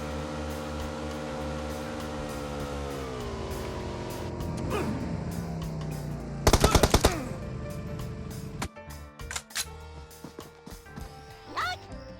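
Game gunfire from PUBG Mobile played on an Oukitel WP17 phone, with a sharp burst of rapid shots about midway through, set against steady game music and sound effects.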